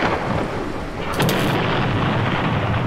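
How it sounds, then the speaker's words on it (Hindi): A cartoon thunder crack in a spooky ghost camp scene, a sudden loud burst rising out of a continuous rumbling storm-like roar, close and full, with no voices. "क्या तुम्हें बिजली कड़कती दिखी?"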